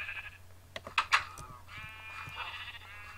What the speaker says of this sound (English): Might as well go kill some sheep.